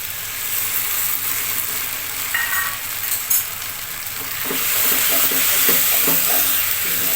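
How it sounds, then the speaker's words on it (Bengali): Jackfruit curry sizzling steadily in a pan after cornflour slurry goes in, with a continuous frying hiss and scraping stirring strokes that grow busier toward the end. "এখন এইভাবে ভালো করে নেড়ে চেড়ে মিশিয়ে নিতে হবে ভালো করে মিশিয়ে নিচ্ছি"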